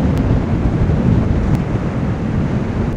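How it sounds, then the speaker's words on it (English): Strong wind buffets the microphone on a high mountain route in the Sierra's Kings Canyon, a loud, steady roaring rumble that fills the whole stretch without pause. "I reckon it's getting a little bit too windy to record."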